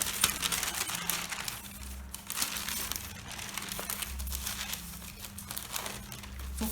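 Paper blouse pattern pieces for a princess dart blouse crinkle and rustle steadily as they are handled close up, with soft crumpling and tearing-like textures throughout and a low hum underneath.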